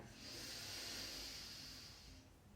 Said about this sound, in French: on va faire une très très longue respiration sur cette dernière